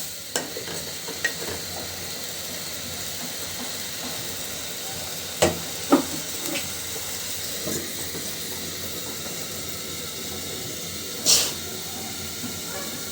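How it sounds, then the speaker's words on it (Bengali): Tomatoes boiling in a pot on a home stove, a steady soft hiss and bubbling simmer with a few light clinks of utensils, no voices. "এই যে টমেটোটা কিন্তু সিদ্ধ হচ্ছে"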